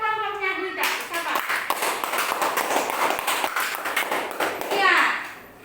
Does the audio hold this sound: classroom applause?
yes